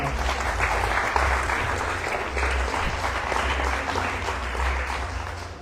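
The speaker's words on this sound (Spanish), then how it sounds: "Den un aplauso al Señor." A church congregation breaks into steady applause, many hands clapping together in a sustained, even roar with a low hum underneath.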